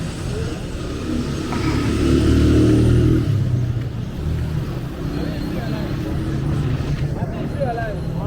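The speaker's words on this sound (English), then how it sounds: "So you see the number of these moped cars or moped bikes riding down." Mopeds rumble and rev past on a street in Accra, Ghana, engines rising and fading as they go by, with traffic noise continuing throughout.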